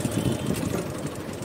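A motorcycle engine runs steadily on a village road, a low, even rumble heard close by with no talk over it.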